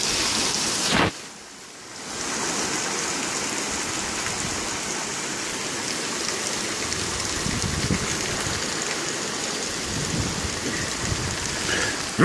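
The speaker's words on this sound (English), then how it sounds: "There's a storm." A thunderstorm pours heavy rain outdoors beside a yard with a lilac and trees, a dense, loud, continuous roar of rainfall with rumbling thunder underneath and no voices.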